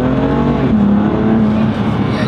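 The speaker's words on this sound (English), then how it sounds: "You can hear that air really coming in." A BMW M2 Competition fitted with an Eventuri air intake runs loud and steady, its engine drone carrying a rushing intake whoosh close up, with no talk over it.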